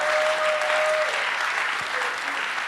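A church congregation claps and cheers continuously in a large worship space, a dense, steady wash of applause filling the whole stretch without a break.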